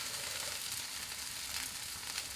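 A hash brown and chorizo mixture sizzles steadily in a pan, a constant close frying hiss with no talking.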